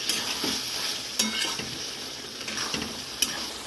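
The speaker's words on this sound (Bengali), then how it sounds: "ভালো করে এবার নেড়ে চেড়ে ভালো করে কষে দেবো।" Mung dal with bottle gourd, sugar and coriander leaves is stir-fried with spices in a pan, sizzling steadily under repeated spatula scrapes and clinks against the metal.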